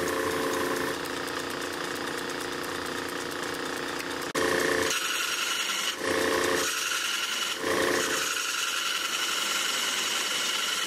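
A wooden hub core for an 1857-patent Sarven wheel hub spins on a lathe while being tapered, a steady motor drone under a scraping cut that breaks off and resumes in several short bursts.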